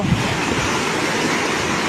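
A loud, continuous rush of fast-flowing floodwater roaring steadily, with wind buffeting the microphone.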